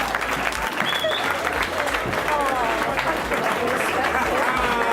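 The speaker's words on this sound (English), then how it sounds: "Big round of applause. Come on, bigger than that." Loud, steady applause from an awards-night crowd, a thick continuous clatter of many hands with whoops and voices mixed in.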